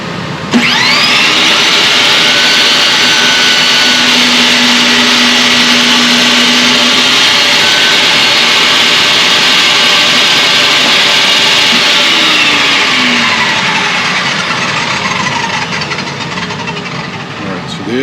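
A power saw cuts the saddle slot in a cigar box ukulele bridge. The motor spins up sharply, then holds a loud steady whine while the blade cuts, and winds down slowly near the end.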